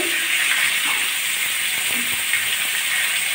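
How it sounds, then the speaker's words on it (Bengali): Potatoes frying in hot oil give a steady, loud sizzle and hiss that carries on unbroken throughout, close up with no voices. "আলুগুলো আমি ভালো করে ভেজে নেব"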